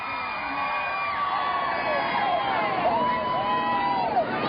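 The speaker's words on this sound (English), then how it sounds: "Plenty of cheers, plenty of waving" Crowd cheering and calling out as the royals arrive at the Sydney Opera House, a steady outdoor hubbub with scattered whoops and voices, moderately distant and continuous.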